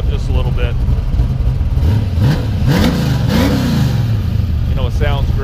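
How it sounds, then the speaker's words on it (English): A 1968 Camaro with a 350 V8 that runs rich, loud and close, rumbling as its revs rise and fall in a few short blips, while a person talks throughout. "It's actually got a nasty little 350 in it. Rev it up just a little bit."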